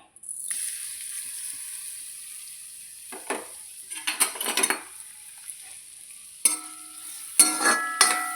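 A soft, low sizzle of grated coconut roasting in oil runs under several bursts of scraping and stirring in a pan, with a few sharp metallic knocks.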